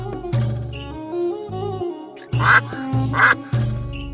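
Loud nasal honks from a cartoon goose sound twice in quick succession, close by, with music playing underneath.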